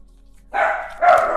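Dogs barking close by in two loud bursts, a shorter volley followed by a second, stronger one after a brief pause.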